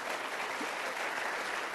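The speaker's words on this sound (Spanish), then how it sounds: "Démosle un aplauso al Señor por habernos rescatado." Congregation at a church service applauding, a continuous thick roar of many hands clapping at once, even and sustained, heard from some distance and rather quiet.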